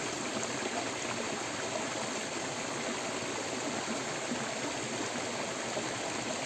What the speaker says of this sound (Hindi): झरना बह रहा था, बहुत सुंदर लग रहा था।